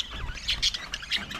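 Caged birds frightened by a snake that has entered their cage give quick, bright chirps and tweets in short bursts, fairly close, over a low background rumble.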